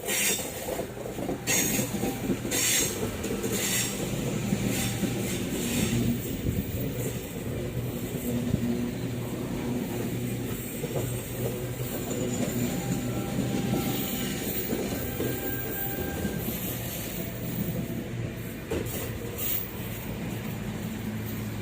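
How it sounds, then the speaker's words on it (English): A British Rail V-set passenger train passing close by, with a loud, continuous roar of wheels and rails, rhythmic clickety-clack and occasional wheel squeal throughout. "a V-set has actually just turned up right now, so I'm going to record that coming."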